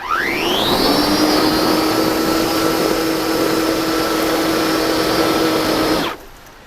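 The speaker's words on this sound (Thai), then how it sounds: "ตัวนี้กวาดหญ้าหรือว่ากวาดบริเวณที่มีน้ำขังนะครับ" A Makita DUX60 multi-function power tool fitted with a sweeper attachment runs at steady speed for about six seconds, its motor whine rising at start-up then holding a constant loud drone before cutting off abruptly.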